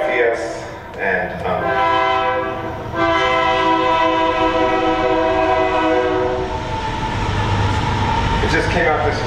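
A train passes during a poetry reading and sounds a loud horn for several seconds. The horn's steady, layered tone rides over a continuous rumble of rolling wagons, which fades toward the end.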